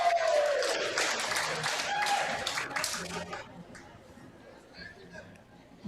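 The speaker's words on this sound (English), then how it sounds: "I don't think I've ever heard a ball going down receive so much applause." A crowd at a professional nine-ball billiards match bursts into loud applause and cheering as a ball is pocketed, then the clapping fades after about three seconds into quieter murmuring chatter.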